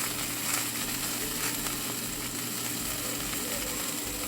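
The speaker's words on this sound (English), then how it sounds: "Sizzle, sizzle." Steady, close sizzling of bread and eggs frying in a pan for a hole-in-the-bread breakfast, a continuous crackling hiss with no talking.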